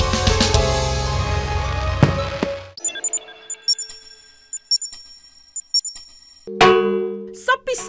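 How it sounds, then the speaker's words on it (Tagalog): The cathedral bell in Ozamis, Misamis Occidental, rung early in the morning for the feast of the Immaculate Conception. Bright, separate metallic strikes ring out after a dense, noisy opening, and a fuller resonant clang comes near the end. "ang kampana ng katedral sa bayan ng Ozamis sa Misamis Occidental, maaga pa lang nanggigising na"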